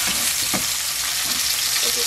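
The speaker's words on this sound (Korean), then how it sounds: "센 불로 지글지글 구워주겠습니다" A large tomahawk steak sizzles loudly in an oiled frying pan over high heat, a dense continuous crackle and hiss with a few soft clinks of the meat being moved.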